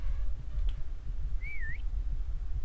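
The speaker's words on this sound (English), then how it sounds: "Oh yeah, thank you for whistling." A single short whistled phrase in the indie horror video game Paranormal Place, a faint, rising and falling tone heard once over low, rumbling ambient background noise.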